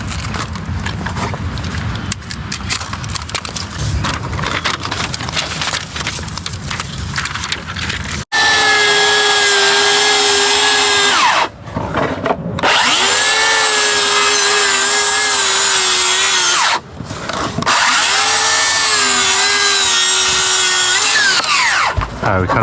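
A power saw cuts a bevel into a wooden concrete form, loud whining bursts in three passes separated by short pauses, after a stretch of rough handling and scraping noise.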